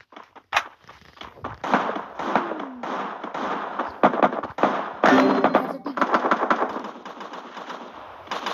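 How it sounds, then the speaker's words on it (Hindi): Bomb blasts in a video game come as a rapid run of sharp, loud bursts and crackling explosions, closely packed and continuous, with a voice speaking briefly among them. "अब तूने कहा पर बम फेंक दिया"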